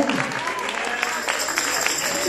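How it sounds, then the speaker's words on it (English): A church congregation claps continuously during a Sunday service, a dense patter of many hands with voices mixed in. "Don't be cheap with that phony clap like you got breath on your own."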